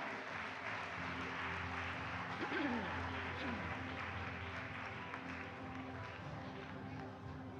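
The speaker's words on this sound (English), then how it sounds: "Let's give them a big round of applause, ladies and gentlemen." An audience at a fintech showcase awards ceremony at a global policy forum applauds the second-place winner with steady, distant, dense clapping that carries on throughout with no talk on top.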